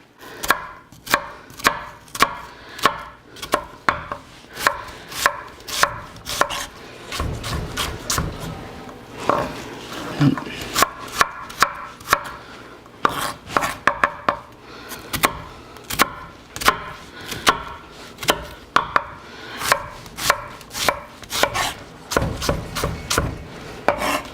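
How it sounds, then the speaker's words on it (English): A knife dicing an onion on a cutting board, a long run of sharp, rapid, evenly spaced chops, close and clear, with brief pauses between bursts. "Alright, so our onion's all diced up."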